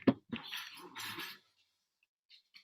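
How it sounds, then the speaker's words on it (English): A dog barks several times in quick succession at close range, two sharp yelps followed by a longer, rougher burst, then a faint whimper after a pause, with no talking. "I better show you the dog so you know who's barking"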